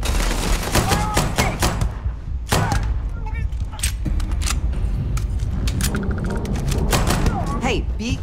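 Turret gunfire in Starfield cracks in sharp, close bursts of repeated shots mixed with impacts and metallic clatter, while a person talks over the action.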